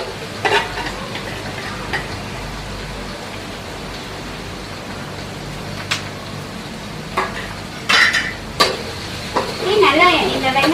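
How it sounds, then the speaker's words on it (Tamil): Chopped onions sautéing in a pan for an egg sambal: a steady, broad sizzle running throughout, with a few brief clinks and stirring scrapes over it. "நல்லா இந்த வெங்காயம் வந்து பச்சை வாடை போற அளவுக்கு வதங்கட்டும்."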